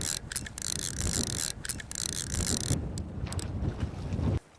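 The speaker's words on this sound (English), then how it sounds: "I continued to crank on the reel." A fly fishing reel is cranked on a lake while fighting a large rainbow trout, giving rapid ratcheting clicks in quick bursts with short pauses, close to the microphone with wind noise behind.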